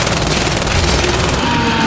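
Sustained rapid gunfire in the video game Gears 5 during an insane-difficulty mission, a dense, loud continuous barrage with no pause.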